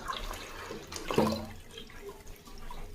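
Muddy Ganga water gushes from a household tap in a steady, close splashing stream that surges briefly in the middle, with no voices.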